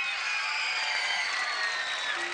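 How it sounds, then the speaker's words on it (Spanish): A studio audience on the 1986 Spanish-language TV variety show Sábado Gigante applauds and cheers a contestant, with steady, dense clapping and shrill whoops filling the whole stretch at close range. "Aplauso para el 6, ya viene el 7."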